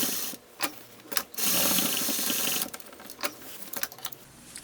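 Sewing machine stitching across a long fabric scarf for a cosplay costume, running in short bursts and then a steady whir of a couple of seconds, close and fairly loud, with mechanical clicks between runs.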